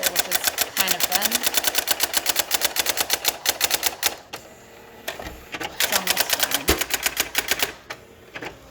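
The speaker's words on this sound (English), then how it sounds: "You can see that it's typing everything out in this little self-tester" A Brother GX-6750 daisy-wheel electronic typewriter runs its self-test, printing in rapid, even bursts of sharp mechanical clacks with carriage-return whirs and short pauses between lines, close and loud, with no talking.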